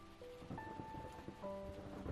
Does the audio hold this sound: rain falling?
yes